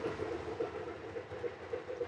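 A model train runs on a home layout with a steady, even rolling rumble and a faint repeating clickety-clack of wheels over track joints, close and moderately quiet with no talk.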